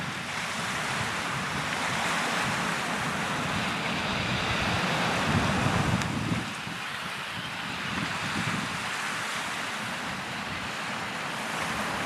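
Surf breaking along a beach rushes in a steady, broad wash with wind buffeting the microphone, a louder surge building midway before easing back, no voices heard.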